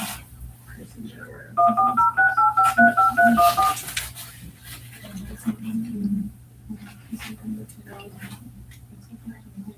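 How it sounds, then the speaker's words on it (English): A telephone keypad sounds a quick run of distinct beeping dialing tones, loud and close, followed by quieter clicks while people talk in a meeting room. "Did you click it first or after you dial?"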